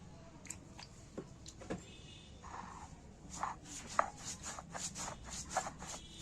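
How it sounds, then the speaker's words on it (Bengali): Poppy seeds ground into a paste by hand, heard as soft, quiet rubbing and scraping strokes that come in irregular bursts, close by, with no one talking. "এবার আমি পোস্তটা বেটে নিচ্ছি"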